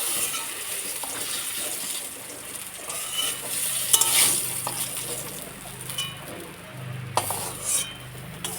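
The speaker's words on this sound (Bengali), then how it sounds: "এখন বেগুন ভাজা দিচ্ছি" Eggplant (brinjal) frying in oil in a pan gives a steady, moderately quiet sizzle, broken by occasional scraping and clinking as it is stirred, with no voices.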